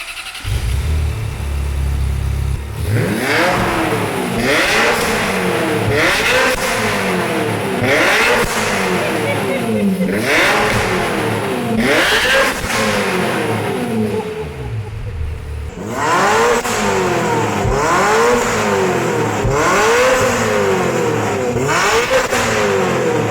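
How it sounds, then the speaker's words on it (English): A Ferrari with a new straight-pipe exhaust revs repeatedly, about a dozen loud rising-and-falling blips in a steady rhythm, harsh and close. "now it's time to hear the new exhaust"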